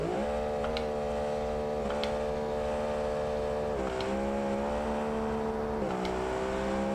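A V8 car of over 7,000 horsepower accelerates hard with manual shifts, its engine note climbing and then dropping at each of several quick gear changes, heard at moderate distance with no talking.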